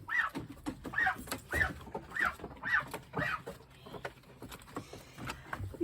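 Geese and ducks call in a regular series of honking cries while being herded toward their house, about six evenly spaced calls at moderate distance, then quieter rustling.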